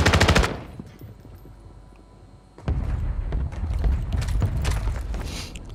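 Video game gunfire: a rapid burst of automatic shots at the start, a brief lull, then sustained loud firing and clattering action for the remaining seconds.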